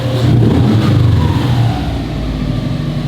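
The engine of a Subaru Impreza GC8 with an STi swap, heard nearby with a loud, deep rumble that swells in revs and then settles back to a steady idle, with no talking.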